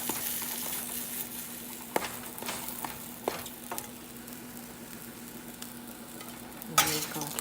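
A pancake frying in butter in a pan gives a steady close sizzle, broken by a few sharp spatula clicks and scrapes.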